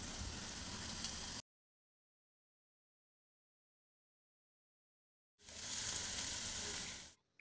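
Chopped onion frying with ginger and garlic gives a close, steady sizzle in two bursts with a silent gap between them.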